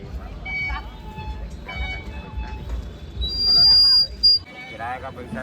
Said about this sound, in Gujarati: અને પછી ફૂંક મારે તો સીટી વાગે.